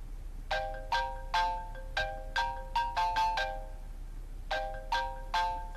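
A mobile phone ringtone plays alone, a melodic chiming pattern repeating in short bursts with a brief pause before it resumes, fairly clear and close over a quiet room.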